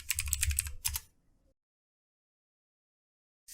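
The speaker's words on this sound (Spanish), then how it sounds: "simplemente escribo el comando de npm i.ui." Quick keystrokes on a computer keyboard as a terminal command is typed, a short close burst of clicks followed by silence and one final key press.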